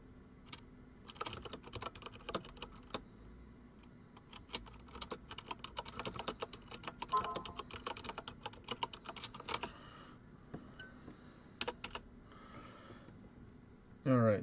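Someone types on a computer keyboard, with quiet, close key clicks arriving in irregular bursts over a faint background, broken by short pauses and a sniff.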